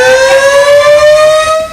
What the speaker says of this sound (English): a siren in Dawsonville, Georgia, sounds when Chase wins a race